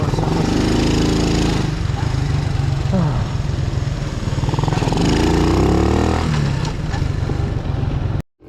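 A motorcycle engine drones loudly and continuously on a long road ride toward Cornwall, with shifting revs and heavy wind rumble before cutting off abruptly at the end.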